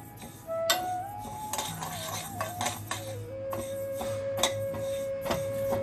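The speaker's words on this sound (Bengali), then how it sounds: "মুগ ডালটাকে আমরা ড্রাই রোস্ট করে নিচ্ছি।" Moong dal is dry roasted in a pan, a close, rattling clatter of lentils and spoon scraping against metal in uneven bursts over a faint steady tone, with no voices.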